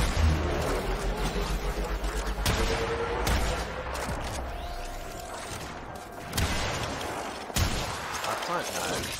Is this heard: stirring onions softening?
no